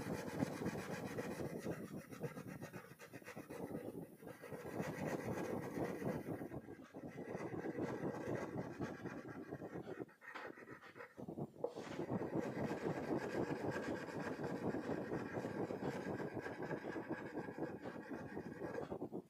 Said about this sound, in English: Now we will use a light green crayon. See, I am coloring in the same direction.